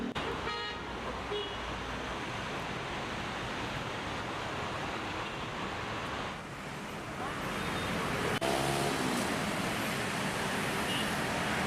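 Heavy traffic jam on a closed main road in Jakarta, a continuous broad roar of idling and creeping vehicles with occasional horn toots, steady throughout with no talk.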